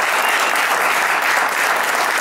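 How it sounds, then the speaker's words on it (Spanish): Dense, steady audience applause fills a club concert room after a blues band performance, loud and continuous throughout with no one talking over it. "fuerte aplauso para JM, que la rompió en la cúspide que hizo."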